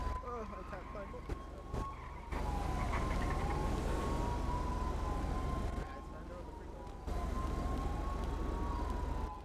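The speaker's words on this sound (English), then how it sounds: "Sirens, but they sound like they're on the freeway" Faint sirens on a freeway wail in the distance, rising and falling over a constant traffic hum, while people talk intermittently nearby.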